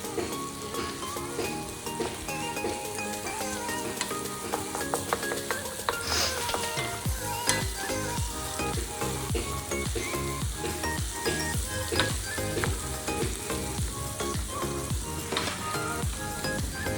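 Crumbled paneer sizzling and frying in hot oil for paneer bhurji, a steady close crackle with occasional stirring and scraping of a utensil in the pan throughout.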